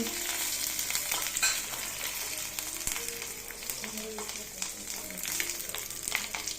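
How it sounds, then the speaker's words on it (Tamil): Mustard seeds and curry leaves crackle and sizzle in hot oil for a coconut chutney tempering, a busy close-up frying hiss broken by occasional spoon scrapes and stirring clatter. "கடுகு நல்லா பொரிஞ்சு வருது. இப்போ கருவேப்பிலை கொஞ்சம் போட்டுக்குவோம்."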